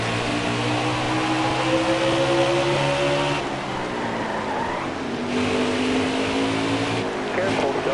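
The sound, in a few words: race cars at Bristol in video game NASCAR Heat 4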